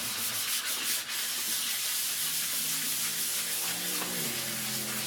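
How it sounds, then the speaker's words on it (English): Fine sandpaper rubbed steadily over a guitar body's painted finish to strip the shine, giving a continuous close scratchy rasp with no talking. "we're going to be using finer sandpaper to get rid of all of that"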